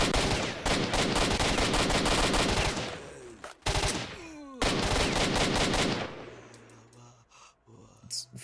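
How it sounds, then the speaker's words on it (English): Rifle fire in the video game S.T.A.L.K.E.R., loud close bursts of rapid automatic shots broken by brief pauses, then fading into quieter ambience near the end. "he's shooting that rifle off in my ear"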